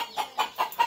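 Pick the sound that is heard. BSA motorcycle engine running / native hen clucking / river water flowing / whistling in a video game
native hen clucking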